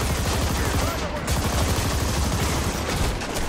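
Dense, rapid gunfire from the co-op shooter Army of Two: The 40th Day fills the whole stretch, loud and continuous with overlapping bursts and no clear pauses.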